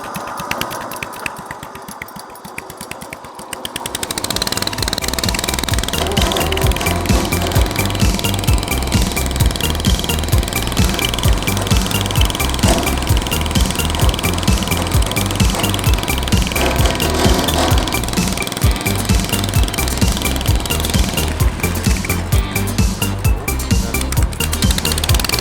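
A restored 1963 Bolens Husky 600 lawn tractor engine starts up after a short rattle and runs steadily and loudly, with a fast mechanical clatter and chugging drone carrying on without talk.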